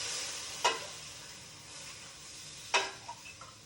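Stock being stirred into a roux for corn and lobster chowder: a soft sizzle under two distinct scraping strokes of a utensil against the pot, followed by a few small clinks.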